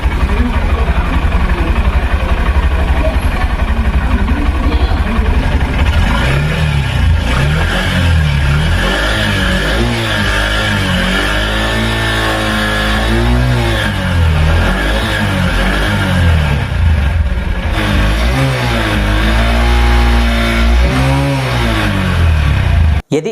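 A Honda SP 125 motorcycle's engine runs steadily at idle with a close, buzzing exhaust note, rising through a few throttle revs in the middle before settling back, ending with a sharp click.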